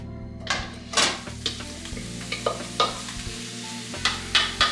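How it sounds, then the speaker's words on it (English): Pork pieces fry in a pan without added oil, giving a steady close sizzle broken by irregular scrapes and clatters of stirring, with no talking. "So I just like to fry them just like that for a little bit"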